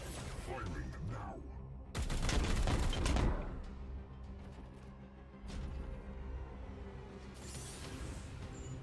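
Gunfire in Warhammer 40,000: Chaos Gate - Daemonhunters, a loud broadband burst of shots lasting about a second, with quieter game sounds, music and voice lines before and after.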